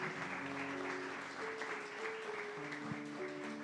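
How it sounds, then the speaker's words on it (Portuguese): A church congregation claps during a Mass homily, a faint, steady patter of applause under sustained organ or keyboard tones. "Dá uma salva de palmas à palavra de Deus"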